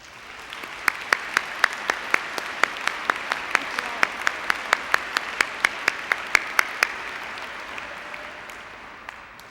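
Graduation audience at the June 2000 Farmington High School ceremony applauding the staff; a soft crowd wash of clapping with one nearby person's sharp, evenly spaced claps cutting through steadily for several seconds.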